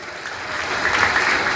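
An audience at a celebration programme claps together, the applause swelling from a scattered start into steady, dense clapping that fills the room.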